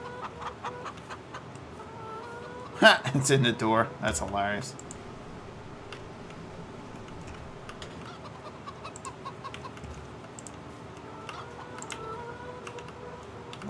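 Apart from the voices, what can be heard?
rooster clucking in Farming Simulator 22 video game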